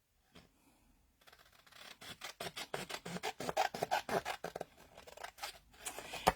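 Paper from a junk mail envelope being trimmed with scissors, a rapid series of crisp snipping cuts close by, quickening toward the end after a short quiet start.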